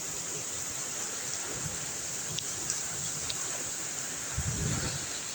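Steady broadband hiss of a heavy rain shower falling outdoors on a rainy day, constant and moderately loud, with a few soft low thumps and brief clicks near the end.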